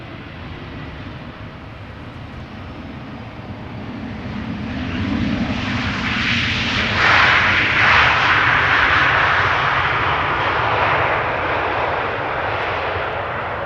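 An airliner lands at Amsterdam Schiphol Airport in light rain, its engine roar swelling from a steady rumble to a loud, broad rush as it passes close, then easing slightly.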